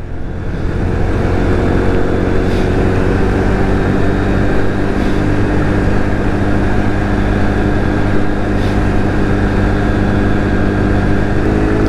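A small X-pro Vader Honda clone dirt bike engine runs hard and steady on a test ride, a loud continuous drone with wind noise throughout and no talk.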